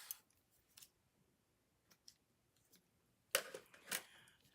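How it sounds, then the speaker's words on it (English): Scissors snip twine in a quiet craft setting while a handmade card is assembled: a few faint scattered clicks, then a louder double snip near the end. "And just snip that off."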